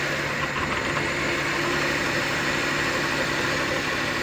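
A freshly overhauled engine runs steadily after starting, a close, even idle with a continuous mid-low hum and no talk.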